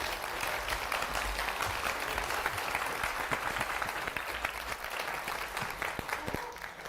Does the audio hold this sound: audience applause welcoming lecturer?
yes